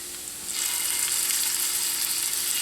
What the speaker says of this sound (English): we're going to add the beef in, and we're going to just sear it